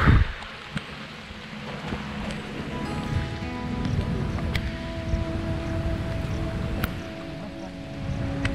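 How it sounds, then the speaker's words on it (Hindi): Morning rain falling outdoors during a rainy-season walk, a steady broadband patter with low rumbling gusts and a few sharp drips or taps, fairly near and constant throughout. "सुबह सुबह अच्छी बारिश हो, अच्छी बारिश हो गई।"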